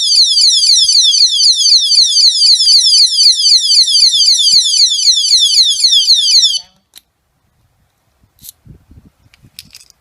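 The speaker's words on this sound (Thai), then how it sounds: "หากยังมีคนมายุ่งรถเราอีกการดังครั้งนี้จะดังประมาณ เสียงร้อยสิบเดซิเบลดังมาก" A loud, piercing electronic alarm siren from a motorcycle disc brake lock warbles rapidly and continuously for about six seconds, then cuts off abruptly, leaving faint scattered noises.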